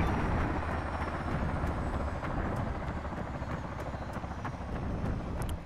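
An Apache helicopter from the video game Arma 3 spools up with a steady, dense rotor and turbine rumble, holding a constant loud drone throughout.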